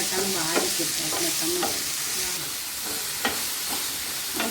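Beef peralan stir-fried with salt in a pan, Kerala style: a steady loud sizzle with scraping spatula strokes at irregular intervals, no voices.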